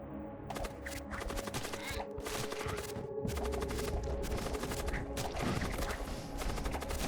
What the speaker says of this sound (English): Is that their gun? Oh, photon cannon, photon beam,